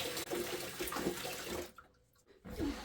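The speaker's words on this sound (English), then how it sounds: "I'm just gonna use the other tote that I brought to pour water into there. So while that's filling up" Water pours steadily into a plastic tote, a dense splashing rush that fills the sound for nearly two seconds, briefly drops away, then resumes.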